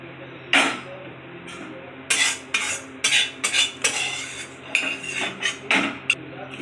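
Serving spoon clinks and scrapes against a pan and dish as Malabar spinach and fish head chochori curry is ladled out, a run of sharp metallic taps and scrapes with no talking.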